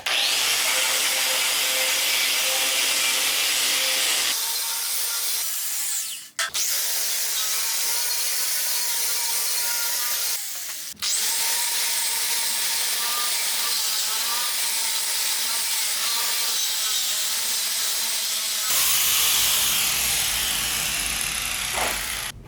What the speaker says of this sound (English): I'm gonna switch to the quarter grinder so I don't wear this thing out.